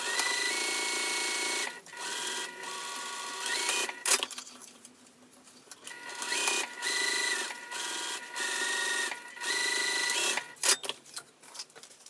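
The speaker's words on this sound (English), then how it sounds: "I'm going to sew around the exterior all the way with the seam allowance given, back stitching, of course, at the top and the bottom." Sewing machine stitching around the exterior of a crossbody bag: close, loud bursts of rapid mechanical whirring, stopping briefly and restarting several times, with a few quick back-stitch pauses.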